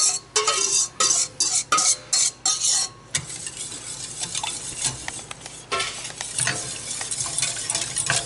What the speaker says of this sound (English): whisk into the chocolate milk mixture to make our custard